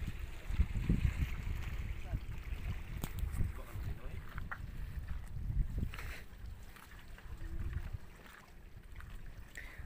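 A fast motorized bangka travels across open sea, its engine giving a low continuous rumble beneath wind buffeting on the microphone, with people talking intermittently.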